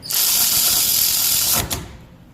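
An Alloyman 16.8V cordless ratchet tightening doubled-up nuts: a loud, close, steady mechanical whirr of the motor and ratcheting gears for about a second and a half, then a brief clunk as it stops.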